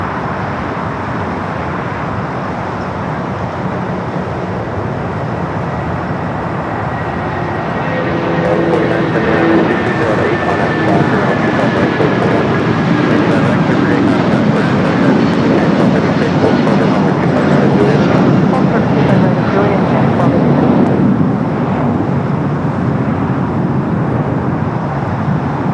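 United Boeing 757-200 airliner rolling for takeoff on runway 25 right at Los Angeles airport, a loud continuous jet roar that swells after the first few seconds and holds steady, mixed with broadband airport and traffic rumble.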